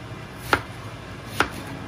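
A knife chops onion on a board, giving two sharp, close taps about a second apart over a quiet background.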